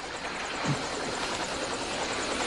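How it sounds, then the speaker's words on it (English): A steady, distant rotor drone hums throughout, faint but continuous, like a helicopter in the distance. "Oh, it sounds like a helicopter."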